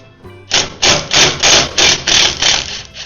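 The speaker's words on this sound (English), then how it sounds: "So on those nuts you can use your impact gun." Impact gun spinning off the lower frame rail nuts on a Yamaha YFZ450R ATV, heard as about seven loud, close, evenly spaced rattling bursts, each lasting roughly a third of a second, with no talking.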